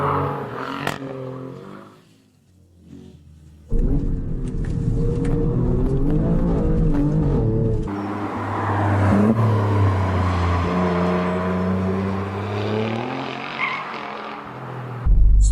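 Engine of an Alfa Romeo Quadrifoglio V6 in race mode, heard as a quiet rumble that drops away and then rises into a loud sustained drive with climbing revs and shifts.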